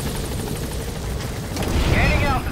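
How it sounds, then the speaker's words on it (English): Helicopter in Metal Gear Solid V: The Phantom Pain, a steady low rotor and engine drone that swells louder toward the end as it lifts off, with game effects layered over it. "Let's go ahead and get on the chopper and leave the mission area."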